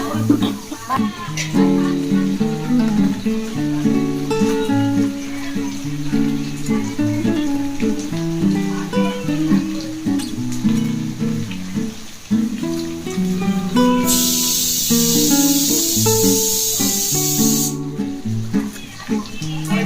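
Water poured into a hot pan of tilapia fish curry sets off a loud, bright hiss lasting a few seconds, heard over steady background music.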